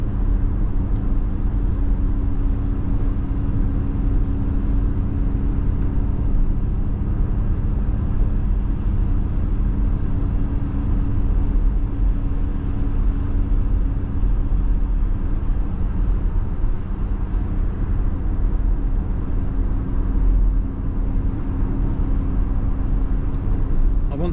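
Steady low interior road rumble and hum from a Ford Mustang Mach-E electric car accelerating on the road, a constant drone with a faint tonal whine and no distinct events.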